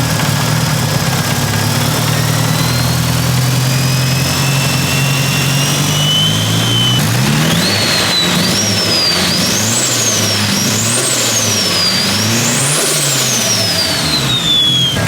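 A modified Mitsubishi Evo 5 engine with an upgraded turbo, loud and close, droning at idle before revving hard in repeated rising and falling bursts as the turbo spools up with a jet-like whine.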